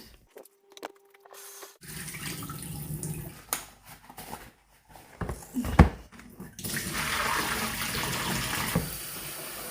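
Water running while rice is washed, with a short quiet start, then bursts of splashing and rinsing, a sharp knock midway, and a steady stream of tap water at the end, close by and without speech.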